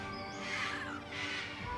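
Parrots at a bird rescue for aged birds give two harsh, drawn-out squawking calls in quick succession, moderately near, over a faint background of room noise.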